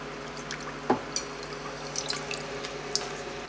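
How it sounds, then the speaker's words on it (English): Steel model aircraft engine parts are rinsed in cold water after a Simple Green cleaning, with soft trickling and scattered drips and splashes over a steady low background hum. "So this is just a cold water rinse"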